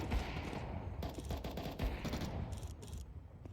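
Rapid gunfire in Counter-Strike 2 during an Arms Race match, dense automatic bursts of close, loud shots in quick succession with crisp cracks throughout, no talk.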